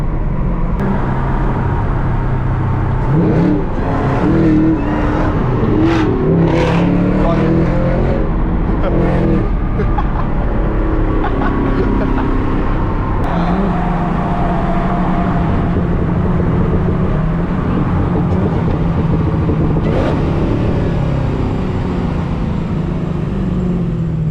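A Camaro ZL1 and a Cadillac CT5-V Blackwing accelerate hard on a pull through Dallas streets, a loud, continuous engine roar rising and swelling up close as voices talk over it.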